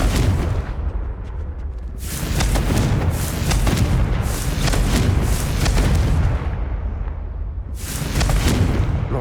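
Repeated booming blasts of the Confringo fire spell in Hogwarts Legacy, loud rumbling explosions arriving in several waves with brief lulls between them, no talking.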